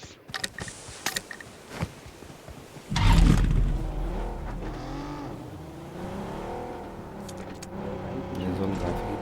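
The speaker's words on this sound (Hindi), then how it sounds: "निकलते हैं गाड़ी लेके अपनी फटाक से जोन में" Vehicle engine in the BGMI battle royale game, a low sustained drone that rises after a burst near three seconds and continues steadily, with someone talking over it throughout.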